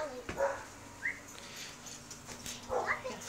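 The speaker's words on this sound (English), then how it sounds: "it goes with stupid dogs in the back" Dogs in the back of a car give a few short yips and whimpers, moderately close, separated by quiet stretches over a low steady cabin hum.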